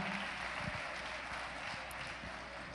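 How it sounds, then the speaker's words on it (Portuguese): A church congregation applauding for the Lord Jesus, a faint, steady wash of many hands clapping over a low hum, with no voices rising above it. "batendo uma forte aplauso para o Senhor Jesus"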